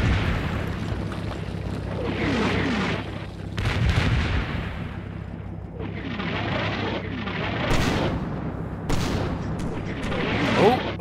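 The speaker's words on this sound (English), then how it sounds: "that sounded like mortars in tubes there, unfortunately." Mortar rounds boom and thud repeatedly in a Combat Mission Red Thunder battle at Festung Posen, a run of heavy, rumbling artillery blasts overlapping one another for several seconds.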